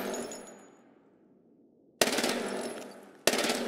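Uzi fire in a video game: a fading tail of shots at the start, then two loud, sudden bursts of rapid automatic gunfire, close and dense.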